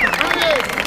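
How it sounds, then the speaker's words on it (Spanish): Crowd at a freestyle rap battle event clapping and cheering loudly, dense applause mixed with shouts and whistles in a brief burst. "quiero un fuerte aplauso para Tutti Dico"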